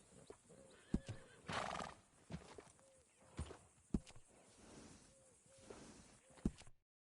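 A horse in Red Dead Redemption 2 whinnies a few times amid slow clip-clopping hooves and scattered thuds, fairly quiet and close, with no talking.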